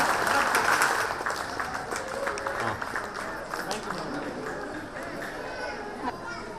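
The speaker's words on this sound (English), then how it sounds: "Please clap. It's good for your heart. Please clap." Clapping from an audience of parents and guests at a preschool annual day, a continuous wash of claps with crowd murmur and voices mixed in throughout.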